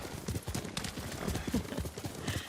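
Horse hooves clip-clop steadily and close while riding in Ghost of Tsushima, a continuous galloping rhythm of hoof strikes with faint ambient noise.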